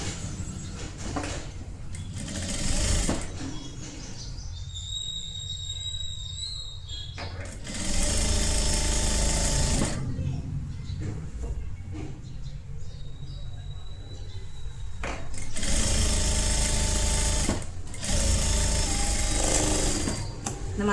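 A sewing machine stitches a folded blouse sleeve hem in three rapid bursts of rhythmic whirring, separated by quieter pauses with handling noise.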